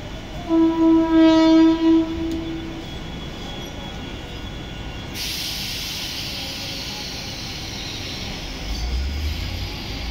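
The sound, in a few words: Mumbai slow local train arriving at platform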